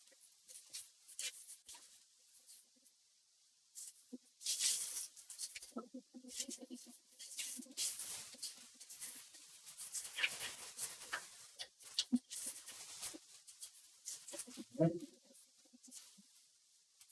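Newspaper packing is pulled from a parcel with intermittent crinkly rustles and scrunching bursts, fairly close and moderately quiet, with pauses between handfuls.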